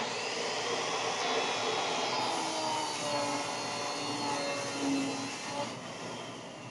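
A panel saw cuts through a board, giving a steady, continuous whirring roar with a broad noisy hiss that holds evenly for several seconds, close and moderately loud with no talking.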